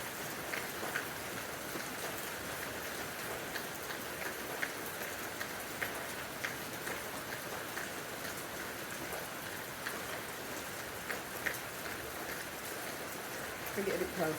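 A rain shower falls steadily, a dense even patter of drops on surfaces that continues unbroken and fairly close, with faint voices now and then.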